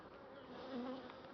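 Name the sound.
honey bees buzzing at an open hive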